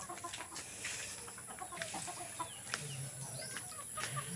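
Chickens clucking outdoors in a rural yard, scattered soft clucks and short calls from several birds, fairly faint over steady background noise with insect-like hiss.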